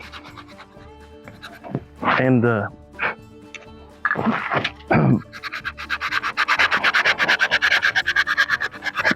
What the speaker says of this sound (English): So I sand this call